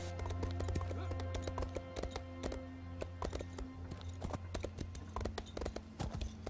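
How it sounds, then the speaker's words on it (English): A horse gallops in the video game Elder Scrolls Online, its hooves clopping in a fast, steady rhythm throughout. Sustained game music tones play underneath, and the hoofbeats are clear and close. "This horse can run."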